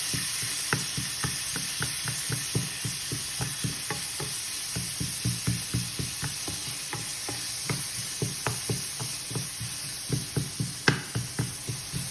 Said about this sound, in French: Maintenant, de la même manière, je vais faire revenir les poireaux.